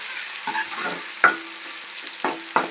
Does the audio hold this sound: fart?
no